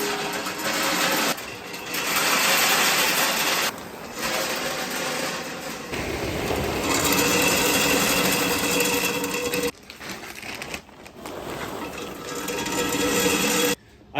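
Wood pellets are poured into the hopper of a Blackstone pellet grill and griddle combo, a dense rattling hiss in several long bursts with brief pauses between pours, close up and fairly loud.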